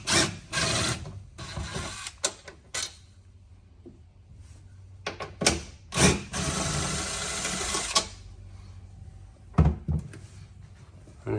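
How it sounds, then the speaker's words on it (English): A power tool whirs in repeated loud bursts while undoing the front bolts of a car seat slid back on its runners, with short buzzing runs broken by pauses, knocks and clunks, close up with no voices. "Slide the seat back on its runners, and you can undo the 2 front bolts."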